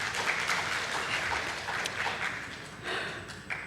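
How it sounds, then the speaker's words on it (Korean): A church congregation at a Wednesday worship service in Busan claps warmly, a continuous patter of many hands that swells and eases slightly over a few seconds with no speech over it. "힘찬 박수로 맞아 주시기 바랍니다."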